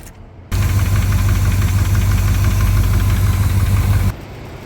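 A vehicle engine catches with the key and settles into a steady, slightly knocking idle, loud and close for a few seconds before cutting back down.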